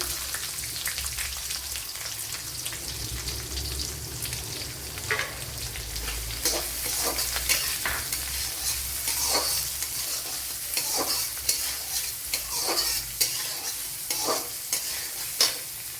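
Chopped onion frying in a pan for a Kerala cheera and pappadam dish, a steady close sizzle with repeated scraping stirs throughout, no voices.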